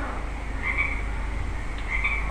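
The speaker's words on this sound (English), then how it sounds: "It's frog ribbiting." A frog croaks twice, short ribbit calls about a second apart over a steady outdoor background hum, moderately near.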